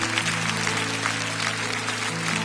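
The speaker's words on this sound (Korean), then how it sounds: "우리 큰 박수로 이분들을 축복합니다." A church congregation applauds steadily throughout, a dense, continuous wash of clapping that fills the whole span alone, with faint harmonic tones sustained underneath.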